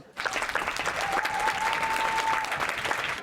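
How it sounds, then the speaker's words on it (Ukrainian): An audience breaks into sustained, full applause after a film screening, starting abruptly and continuing steadily, with a faint tone held beneath the clapping. "Опісля перегляду гучні овації."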